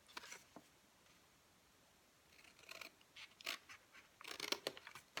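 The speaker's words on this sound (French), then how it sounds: "vous venez avec votre paire de ciseaux. Donc, comme ça. Et vous venez couper ici," Scissors snip through scrapbooking paper card for a pop-up card, making faint, close, crisp cutting bursts scattered over a quiet background.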